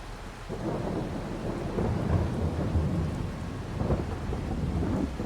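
Rain falls steadily with rolling thunder rumbling throughout the Farming Simulator 22 game, set on a Missouri farm during silage work; the deep thunder swells and fades under continuous loud rainfall, with no one talking.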